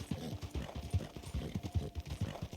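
Hooves of a horse in a video game pound in a quick, regular galloping rhythm at full speed, the thudding beats close and steady throughout with no talk.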